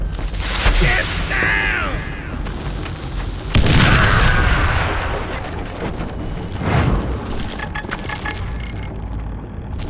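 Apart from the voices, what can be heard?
explosion in a mine in the video game Call of Juarez: Gunslinger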